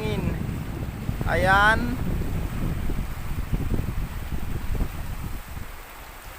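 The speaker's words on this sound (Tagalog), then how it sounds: "Maliliit lang ang alon, pero malakas ang hangin." Strong wind buffets the microphone at the seaside over small waves, a constant low rumbling gust throughout, while a voice speaks briefly early on.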